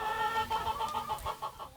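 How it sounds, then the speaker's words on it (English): Chickens at a small farm coop in Port Lions on Kodiak Island, Alaska, cluck in a steady run of short, close calls with no voices over them. "There's a coop where a flock of chickens lay eggs too"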